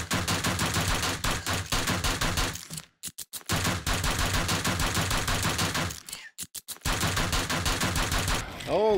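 Bursts of rapid automatic gunfire in the survival game 7 Days To Die, loud and close, with two short breaks where it stutters into a few separate shots before resuming in long sustained volleys.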